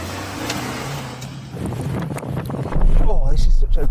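A Suzuki Jimny driving off-road, with a steady engine and wind rumble that swells louder toward the end, heard under talking.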